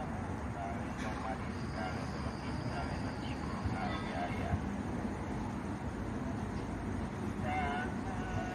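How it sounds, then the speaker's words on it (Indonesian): A high-speed train rolls into Tegalluar station with a steady rumbling roar and faint squealing wheels, continuous throughout, with voices murmuring in the background. "Kereta cepatnya datang."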